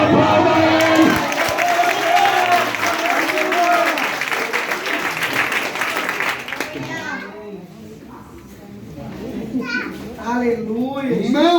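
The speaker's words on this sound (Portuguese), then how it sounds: "Levante a sua mão e aplauda Ele." Church congregation applauding and cheering during a service, a loud mix of clapping, shouts and children's voices that fades after several seconds as voices continue.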